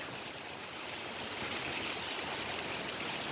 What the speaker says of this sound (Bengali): প্রচুর আকৃতির বৃষ্টি হচ্ছে প্রচুর আকৃতির বৃষ্টি বাতাস আর একদম শীতল করে দিছে